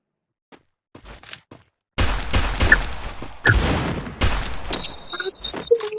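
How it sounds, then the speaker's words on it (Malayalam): Sniper rifle shots in the Free Fire video game ring out as several loud, sharp bursts, each followed by a decaying tail. Fainter clicks and handling noises come before them, and a brief tone sounds near the end. "സ്നൈപ്പർ നല്ല ഹെവി സൗണ്ട്."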